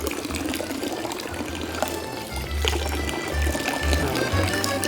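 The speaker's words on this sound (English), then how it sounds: "I'm gonna rinse out the coffee with this water." Water splashes and pours steadily from a public street fountain in Rome as a coffee cup is rinsed under it, a close, continuous wash of sound with a brief burst of low rumble, with no speech.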